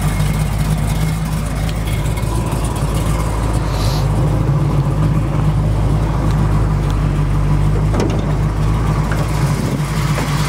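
A 1968 Chevrolet Camaro SS with a ZZ502 big-block, aluminum heads and a high-rise manifold, idles steadily in 25-degree cold without a choke, a loud, close, continuous low rumble with no talking.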